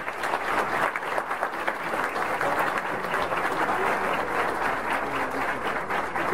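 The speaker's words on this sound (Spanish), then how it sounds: "Recibimos con un fuerte aplauso al maestro Mateo Morrison." Sustained applause from an audience at a Dominican literary event, welcoming a speaker onto the stage: a dense, steady wash of many hands clapping for several seconds without pause, loud and close.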